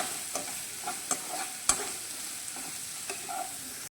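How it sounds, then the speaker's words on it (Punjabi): Onions fry on a low flame while a spoon keeps turning them, making a faint, gentle sizzle broken by light taps and scrapes against the pan, with no voice. "ਪਿਆਜ਼ ਦੀ ਫਲੇਮ ਘੱਟ ਕਰਕੇ ਇਹਨੂੰ ਲਗਾਤਾਰ ਆਪਾਂ ਉੱਤੇ ਹੀ ਹਲਾਉਂਦੇ ਹੋਏ ਭੁੰਨਾਂਗੇ"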